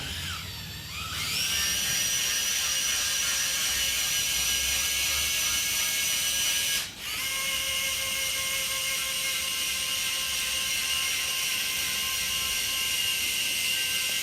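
A small CADA micro motor, compatible with LEGO Technic, runs steadily and close by for the whole stretch. It gives a high, even whir with a brief dip near the middle, and no one speaks.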